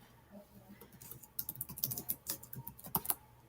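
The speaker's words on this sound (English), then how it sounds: "and they can type" Someone types on a computer keyboard, a quiet, quick, irregular patter of keystrokes that grows busier toward the end.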